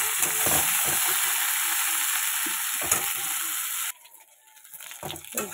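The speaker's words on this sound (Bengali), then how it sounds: "আলু আর পটলগুলো সুন্দর করে ভেজে নেব লাল লাল করে।" Potato and pointed gourd pieces fry in hot oil with a loud, continuous sizzle and occasional stirring scrapes. The sizzle drops off sharply near the end, leaving quieter crackles.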